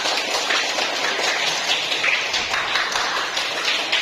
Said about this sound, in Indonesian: Beri tepuk tangan untuk Kesha dulu